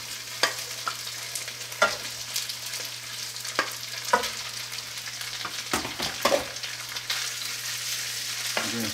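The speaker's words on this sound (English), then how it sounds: "I'm going to go ahead and put the rice in, right from my pot." Rice stir-fried with onions in a pan for fried rice, a moderate sizzle punctuated by repeated spatula clinks and scrapes at irregular intervals over a faint low hum.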